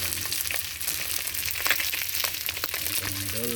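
Halibangbang fish fries in a pan with a dense, constant sizzle that crackles and spits. It is close, fills the whole stretch, and has no talking over it.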